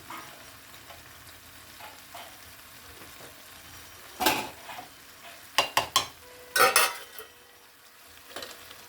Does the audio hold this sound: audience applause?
no